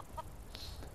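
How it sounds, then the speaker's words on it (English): Chickens beside a little coop in a modded Skyrim game give a few soft clucks, quiet and brief against faint ambient game background, with no talking. "He has the chickens. Got the little coop there."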